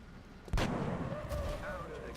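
A single heavy gunshot booms from XCOM: Enemy Within as a soldier fires at a floater, followed by a rumbling tail and faint game effects, with a voice heard quietly beneath.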